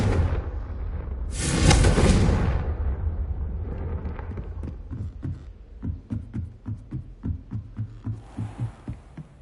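A Confringo explosive spell in Hogwarts Legacy erupts as a loud, bright blast with a roaring burst, then trails into a series of rhythmic thumping pulses that fade off.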